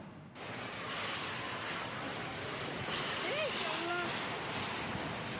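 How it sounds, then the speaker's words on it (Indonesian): Strong wind with heavy rain batters houses in Pangkep, South Sulawesi, as a constant loud roaring rush with faint voices briefly audible beneath it. "Inilah rekaman amatir saat hujan disertai angin kencang menerjang sejumlah rumah"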